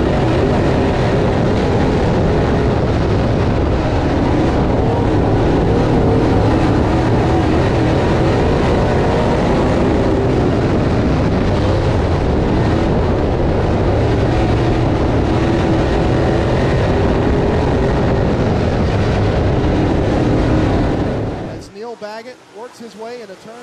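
Race cars roar around a dirt track in the HTF Series House Divided finale at Whynot, a dense, loud, continuous wash of engine noise that drops away abruptly at the end.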